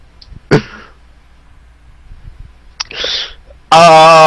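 A single sharp sneeze bursts out close by, followed by a few quieter breathy sounds. A loud voice comes in at the end.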